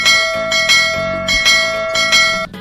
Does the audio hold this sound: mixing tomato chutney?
no